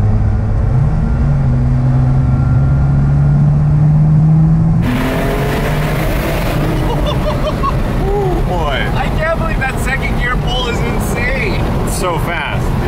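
A RUF CTR sports car, rated for 223 mph, revs and accelerates on a German countryside road: a steady rising engine drone gives way to a louder, rougher roar, with voices talking over it.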